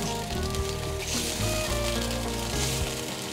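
Sauce stir-fried in a pan while starch water is poured in, a loud continuous sizzle and bubbling hiss close by, steady from start to finish, with background music running underneath.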